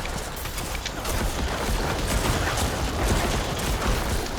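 Repeated corpse explosions from a Necromancer in Diablo 4 hardcore mode form a dense, continuous barrage of blasts and crackling bursts, loud and sustained with no talk over them.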